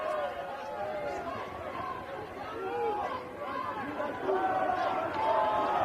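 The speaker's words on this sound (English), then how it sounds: "you can hear from the crowd a little bit of enthusiasm to try get them through this last scrum" Spectators at a college rugby match between SDSU and USD at the Founders Cup call out and cheer in a steady, moderately loud crowd babble while the forwards bind for a scrum, with several voices rising over the hubbub.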